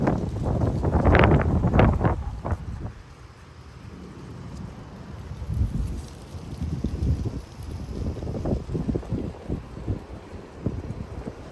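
Strong wind gusting in Frisco, Texas during 40 mph gusts and a West Texas dust storm, roaring in heavy low buffeting bursts against the microphone that swell, ease off, then build again in rough waves, with no talk.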